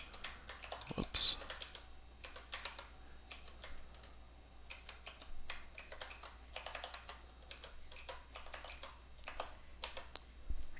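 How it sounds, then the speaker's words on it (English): Quiet, irregular clatter of fingers typing on a computer keyboard, bursts of keystrokes with short pauses, close by, against a faint low hum. "Typing badly while we do it."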